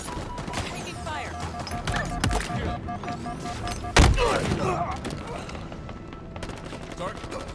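Halo Infinite gunfire in an Oddball match: rapid bursts and sharp cracks, with two loud impacts standing out, over constant game noise and layered effects.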